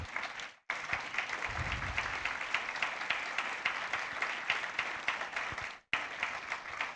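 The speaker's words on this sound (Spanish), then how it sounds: "Un aplauso al Señor." Church congregation breaks into sustained applause, a dense even wash of clapping that runs steadily with two brief gaps.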